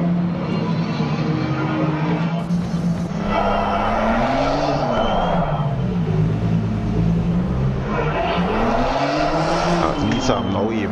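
Race cars in the PC racing game Assetto Corsa Competizione roar with rising and falling engine notes and gear changes, loud and close, occasional tire squeal, steady throughout without talking.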